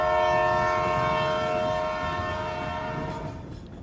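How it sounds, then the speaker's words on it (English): A train horn blares loud and sustained in The Sims video game as a train passes, the tone holding steady over a rumbling rail background before slowly fading. "Friends, what is this train?"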